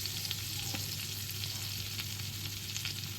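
Turmeric and chili powder fry in a pan of oil and butter for a kaju curry, giving a steady close sizzle with faint stirring scrapes throughout.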